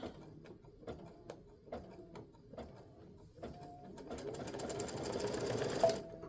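A sewing machine stitches bird feet in brown thread on a bluebird appliqué, first in short stop-start bursts of clacking stitches, then in a longer steady run that grows louder before stopping; no speech.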